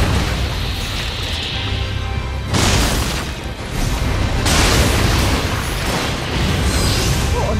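Cannon fire in the samurai action game Nioh booms out in heavy, rumbling blasts, loud and close, with the surges overlapping into a continuous roar.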